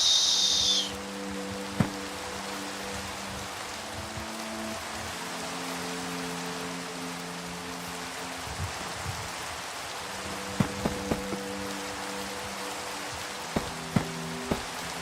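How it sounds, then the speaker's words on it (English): Steady rain patters on a surface, with a few sharp drips and soft low tones drifting underneath. "I swear to God, it's always raining in this world."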